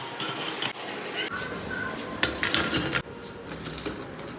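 Cauliflower 65 fries in hot oil, giving a hissing sizzle alongside clinks of a metal utensil against the pan, with shifts in loudness as the pieces are turned.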